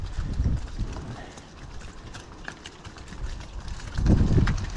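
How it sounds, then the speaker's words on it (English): Dairy cows, including black and white Holsteins, walk up a roadside lane to the field, their hooves clopping unevenly on the hard surface with low shuffling and a heavier burst of movement near the end, amid light outdoor ambience. "Here's the cows going on up to the field."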